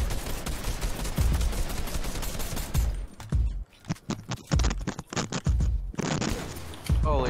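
Gunfire in the video game Fortnite crackles in dense rapid bursts, loud and continuous at first, then broken into sharp separate shots with brief lulls, scrapes and clatter between them.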